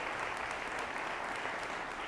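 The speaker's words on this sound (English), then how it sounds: "let's give a round of applause for Nick Gilson first and Gilson Snow" Steady, dense applause fills the room as an annual meeting audience claps for Nick Gilson and Gilson Snow, continuous and even throughout with no voices on top.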